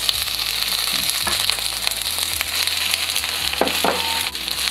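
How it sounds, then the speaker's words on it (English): Bok choy leaves sauté in a hot pan with garlic, a steady close sizzle and crackle, with occasional stirring scrapes and clinks over the frying hiss. "And then we're gonna add the leaves,"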